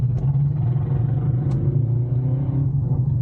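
Subaru WRX idling with a GReddy blow-off valve, a steady low engine rumble running throughout with one brief sharp hiss near the middle, recorded close by with no talking.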